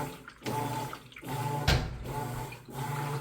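An Amana top-load washing machine fills with water during a wash cycle, with a soft, steady rush of flowing water broken by several brief pauses and surges. The sound is fairly quiet and close, with no voices.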